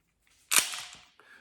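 A WE chrome, etched full-metal M1911 replica airgun fires once, giving a sharp, loud crack with a short metallic blowback rattle, then a softer click a moment later.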